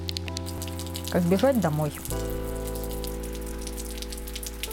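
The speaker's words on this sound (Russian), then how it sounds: "Дождик все усиливался." Rain falling outdoors on a steppe of clay hills during a spring morel hunt, a steady soft patter that continues throughout, with a person speaking briefly over it near the start.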